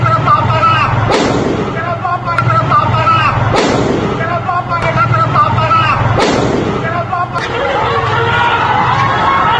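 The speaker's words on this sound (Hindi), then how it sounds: "सिवान में फायरिंग भी हुई, जिसकी गूंज सुनाई दी" Loud gunshots crack out at a student protest in Siwan, Bihar, in a steady series, roughly one every second, over a constant roar of crowd noise and distant voices.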